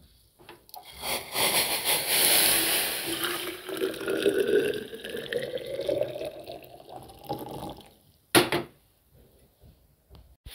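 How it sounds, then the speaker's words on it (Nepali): Water heats in a pot for cooking in a home kitchen, giving a bubbling, hissing wash that swells and fades, with a sharp clatter near the end. "अब यहाँ पानी लाउनुपर्छ, पानी उम्लिँदैछ"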